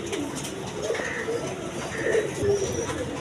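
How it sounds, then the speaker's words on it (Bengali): A pair of king pigeons coo softly in repeated low, throaty phrases, close by, over a busy background hum with faint voices. "এইখানে এক পেয়ার কিং কবুতর আছে দেখেন"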